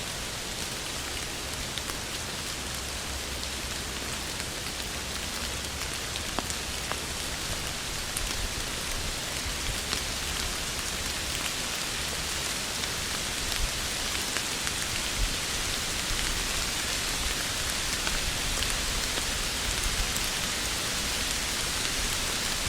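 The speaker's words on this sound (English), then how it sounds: "You can feel the rain on your leaves" Steady rain pattering on tree leaves, a dense, even hiss that holds for the whole stretch with no breaks and no voices.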